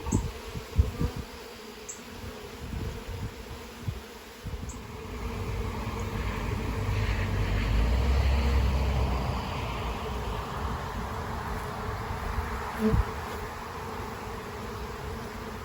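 Steady, close buzzing of many honey bees on hive trays fills the whole clip, a dense drone with occasional louder passes and soft bumps.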